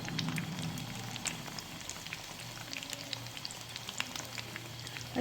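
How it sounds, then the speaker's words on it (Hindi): Pre-cooked chicken patties lightly frying in oil in a pan over a medium flame, a steady close sizzle with scattered crackling pops over a low background hum. "ये मैंने मीडियम फ्लेम कर दिया और मैं इसमें ये लाइट फ्राई करूँगी"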